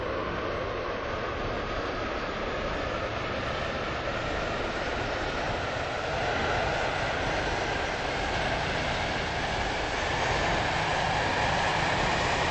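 A video game train rumbles along steadily toward Leighton City with a continuous broadband roar and faint rhythmic clatter, unbroken throughout.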